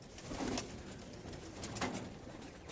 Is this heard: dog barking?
no